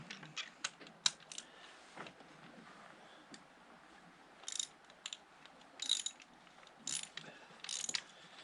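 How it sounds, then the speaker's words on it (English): A ratchet driving a 9/16 deep socket loosens a spark plug on a 2007 Nissan Versa, giving quiet bursts of fast clicking ratchet pawl strokes with short pauses between them, close up and without talk. "9/16 deep socket. You're going to use that just to loosen it"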